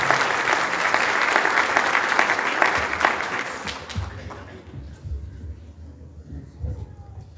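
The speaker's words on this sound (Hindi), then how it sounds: "हम तालियों में मैट को वेलकम करेंगे" A church congregation at Sunday worship claps to welcome a pastor forward, a sustained roomful of applause that fades out after about four seconds, leaving quiet room sound and faint voices.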